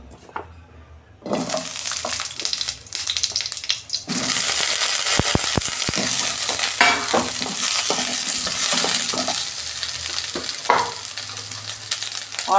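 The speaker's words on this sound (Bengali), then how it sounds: "আমি তেল দিচ্ছি অল্প ওই কড়াতেই। এই আলু আর বেগুনটা ভেজে নেব।" Potatoes and eggplant fry in a little oil in a wok, a loud crackling sizzle that bursts in after a quiet start and then stays steady and close, with occasional stirring clatter.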